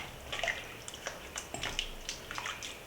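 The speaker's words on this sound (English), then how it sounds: "I think I'll probably add a little more water" Water is poured into a pot of Trinidadian cowheel and pigtail soup, giving a short run of splashing and trickling with small irregular splats and no talk.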